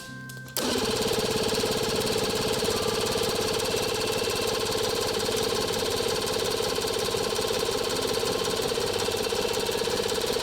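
A jon boat motor catches after a brief quiet start, then runs loud and steady with a rapid knocking chatter that holds without a break; it is low on gas and pouring fuel from the exhaust.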